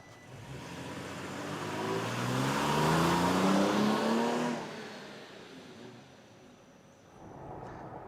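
A truck fitted with a Sprint Booster throttle controller accelerates on a test drive, its engine note climbing steadily through the rev range, then dropping off before picking up again, heard from inside at moderate volume.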